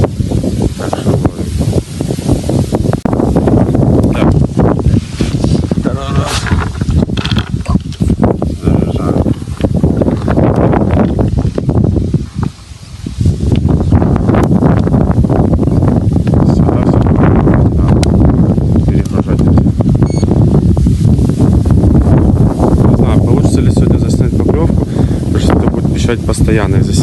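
Strong wind buffets the microphone at a carp fishing spot, producing loud, continuous low roaring and gusting that dips briefly about midway. Faint background sounds are partly masked by the wind.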